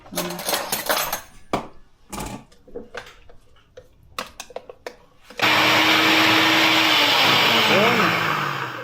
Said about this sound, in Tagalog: Siguro kailangan ko haluin.